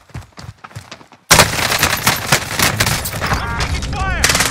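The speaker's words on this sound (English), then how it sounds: "I'm taking fire!" Rapid bursts of video game gunfire crackle continuously and loudly after a quiet opening, with a voice speaking over the shooting.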